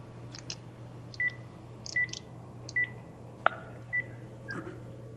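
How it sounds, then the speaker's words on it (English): Several short telephone keypad touch-tone beeps, spaced irregularly over a steady low hum on a conference phone line, as someone dials star six to unmute. "If you're on the phone, you can hit *6 to unmute."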